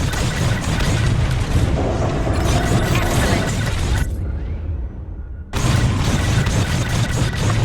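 Bombs detonating during a bombing run in the Star Wars: Squadrons space combat game, a dense roar of overlapping blasts and debris that drops away into near silence for about a second before the explosions return at full force.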